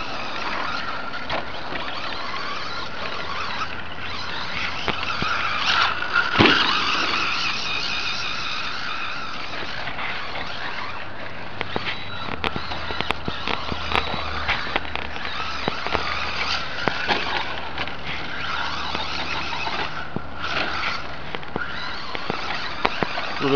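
A big-engined car laps a dirt track, its motor a distant, steady drone with rising and falling revs, scattered sharp pops and crackles, and occasional gravelly spray as it works through the corners.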